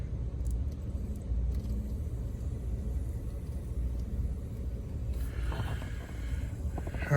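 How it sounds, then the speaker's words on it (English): A fuel pump runs on a Starquest under repair, a steady low hum and rumble that holds evenly throughout, with a brief rattle near the end and no talking. "All right, so the pump is on."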